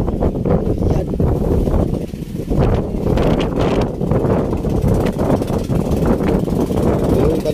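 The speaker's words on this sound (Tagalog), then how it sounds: "malakas nga pong hangin natin" Strong wind buffets the microphone aboard a fishing boat, a loud, continuous roar with gusty swells throughout.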